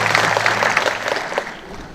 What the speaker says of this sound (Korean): 특강 다시 한번 박수로 청합니다.